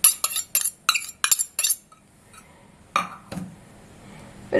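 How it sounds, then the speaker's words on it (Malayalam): Small pieces from half a small coconut dropped into a mixer grinder jar, making a quick run of sharp clinks and clatters, then a pause and a couple of softer knocks. "മിക്സിയുടെ ജാറിലോട്ട് ഇട്ട് കൊടുക്കാം."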